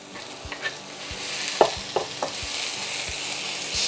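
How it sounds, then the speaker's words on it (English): Peppers and onions tossed into a hot, oiled pan for shakshuka give off a soft, even sizzle, with a handful of sharp clicks and scrapes as a spoon stirs them around. "So just add them all in at once."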